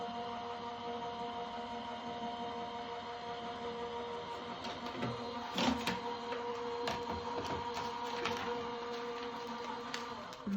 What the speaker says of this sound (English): I'm going to run that straight through the machine, and then we're going to grab that at the other side.